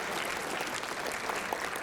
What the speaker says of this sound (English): So a big round of applause to Blitz for going through all that effort